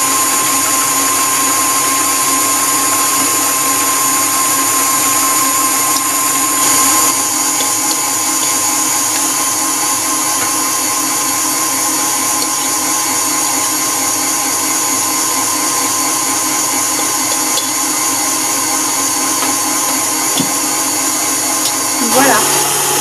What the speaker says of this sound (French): On accélère un peu plus rapidement notre batteur et on introduit petit à petit notre mélange des ingrédients secs